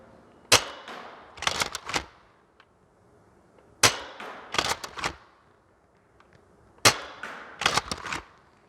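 Three bursts of shots from an Adventure Force Nexus Pro toy dart blaster, each a sharp pop followed by a quick rattling cluster of further shots, evenly spaced and fairly loud with quiet gaps between.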